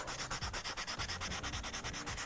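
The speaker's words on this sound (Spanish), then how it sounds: "Eso lo hacemos lijando todo el contorno de la bolita" Sandpaper rubbed around the edge of a craft foam ball to flatten its roundness, a steady rapid rasping with even back-and-forth strokes, close and alone.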